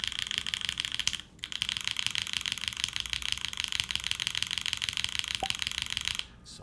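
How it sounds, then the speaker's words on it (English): Steady, dense clatter of typing on a mechanical keyboard with HMX Macchiato switches, TX screw-in stabilizers and a top-mounted aluminum plate, close and continuous with a short pause near the start and a stop at the end. "let's see what this keyboard sounds like"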